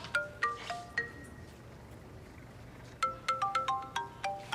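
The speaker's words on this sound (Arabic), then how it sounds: "ده صوت تليفوني" Mobile phone ringtone chiming in short bright tonal bursts, a brief melodic run at the start, a pause, then a faster repeating series of notes, fairly faint against a quiet room.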